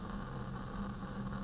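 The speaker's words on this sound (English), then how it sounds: "steam is being forced out and creating torque" Steam hisses steadily from the two nozzles of a Hero engine, forced out of its central spherical boiler through horizontal tubing; a continuous, even, moderately quiet rush with a low underlying hum and no voices.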